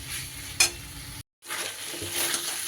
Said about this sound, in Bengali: এইবার আমি ভেজে রাখা আলুগুলোও এখানে অ্যাড করে দিলাম, দিয়ে একটু সময় আমি সুন্দর করে মশলাটাকে কষিয়ে নেব